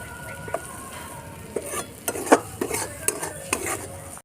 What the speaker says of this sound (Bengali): এরম করে আস্তে আস্তে ভালো করে ভেজে নিতে হবে